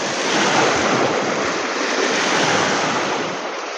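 Strong waves surge onto the rocky shore of a lake island, a steady loud wash of surf mixed with wind buffeting the microphone.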